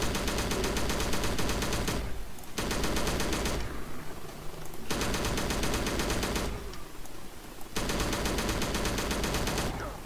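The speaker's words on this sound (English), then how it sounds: "Is it just shooting now?" Rapid automatic gunfire rattles in the video game Russian Bear Game, loud and close, in sustained bursts broken by two short lulls of quieter scattered shots.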